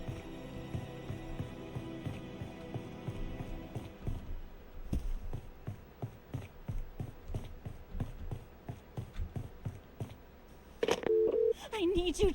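Telephone dialing in the Friday the 13th video game: a series of short, separate tones and clicks pulse irregularly over a humming background, ending in a brighter sustained tone.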